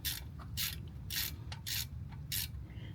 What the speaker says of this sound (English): Let's get this back on. Screw this back in.